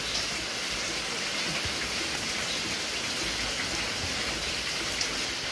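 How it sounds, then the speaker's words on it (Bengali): Steady rain falls outdoors, a dense continuous hiss of drops on surfaces at an even level with no pauses. "বৃষ্টির আওয়াজ।"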